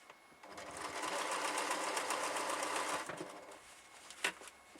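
A small domestic sewing machine with a 7-inch throat stitches through a large quilt, running in a steady, fast mechanical whir for a few seconds before slowing and stopping, with a brief knock near the end.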